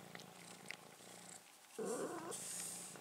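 Cat purring, a soft low rumble that starts faintly and swells louder in the second half, quiet and close with no talk, accompanied by a faint higher tone.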